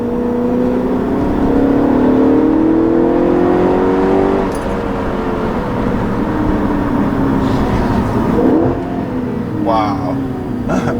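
Loud, close revving from a 2013 Audi RS5 engine holds a strong rising pitch for several seconds, then eases back to a lower steady drone; brief human voices break in near the end.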